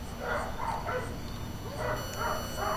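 Dogs bark in the horror video game Mr Meat at night, with a few short yapping barks in two bursts over a low steady background drone.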